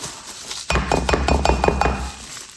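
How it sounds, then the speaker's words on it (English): Glassware clinks and knocks in a quick cluster of sharp, close taps as mayonnaise is spooned into a glass bowl, alone without talk. "we're gonna put 1 cup of mayo into a bowl"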